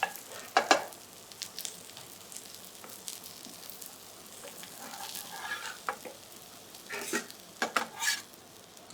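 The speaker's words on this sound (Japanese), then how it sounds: "反対側も焼いてあげて" Chicken breast sizzling in a frying pan on its second side, a steady close crackle and hiss with occasional scrapes and clinks of a utensil against the pan, no talking.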